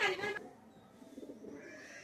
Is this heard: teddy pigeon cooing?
yes